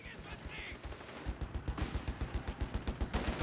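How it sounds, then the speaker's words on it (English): A .50 cal machine gun fires in the Company of Heroes 3 video game, a rapid, evenly spaced burst of heavy thudding shots that starts quieter and grows louder, with other battle noise behind. "Love the sound of that new 50 cal."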